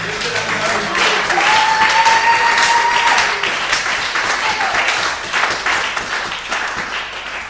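A church congregation applauding for the Lord during a sermon, a sustained burst of clapping from a crowd that swells and then slowly tapers off, with a voice calling out over it.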